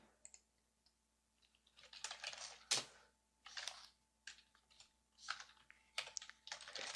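Typing Java code on a computer keyboard: quiet, close clusters of key clicks in short irregular bursts, with one sharper louder tap and brief pauses between runs.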